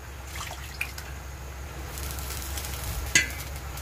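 Sweet potato tops in a pan, a low steady sizzle with light stirring scrapes and one sharp clink near the end, no talking.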